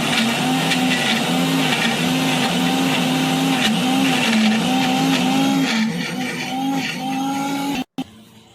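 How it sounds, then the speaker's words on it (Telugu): A kitchen mixer grinder grinding tomatoes for mint tomato chutney gives a loud, steady motor whine with a slightly wavering pitch. It runs continuously for about eight seconds, then cuts off abruptly. "మిక్సీ పట్టేసుకుంటాం"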